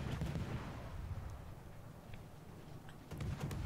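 Naval guns from the warship game World of Warships boom as deep, distant rumbles, with a heavier salvo at the start and again near the end, and faint clicks in between.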